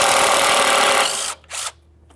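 A power tool whirs loudly as it backs out an 8mm mounting bolt on a 2006-2012 Ford Fusion, running steadily for over a second, cutting off, then a brief second burst before silence.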